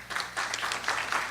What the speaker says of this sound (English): Everybody can kind of give a round of applause.